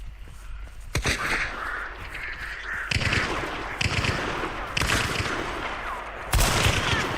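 Sharp gunshots in a shooting video game, several loud isolated cracks and short bursts spaced irregularly over a hissing game ambience, with no talking.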